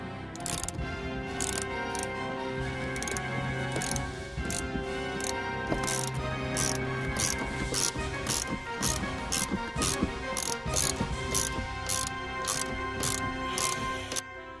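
A ratcheting wrench works on the seat bolts of a 2007 Nissan Pathfinder, producing regular rapid clicks in a steady rhythm throughout, close and fairly loud over a constant mechanical background drone.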